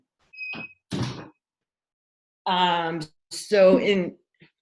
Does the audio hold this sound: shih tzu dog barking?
no